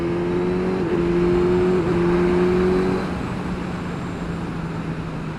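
A Suzuki GSX S1000 motorcycle engine is thrashed hard, its loud steady high-revving drone holding for about three seconds before backing off to a rougher, lower roar.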